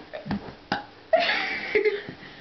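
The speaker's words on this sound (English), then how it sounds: "The burping chorus line?" A person burps several times, short throaty croaks followed by a longer, drawn-out belch, fairly close and moderately quiet with gaps between them.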